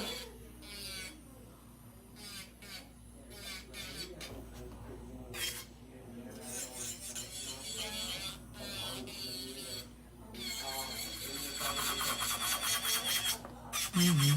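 An acrylic nail is worked with a 100/180-grit buffing block, giving soft, steady rasping strokes in quick bursts close by, with a faint background hum underneath.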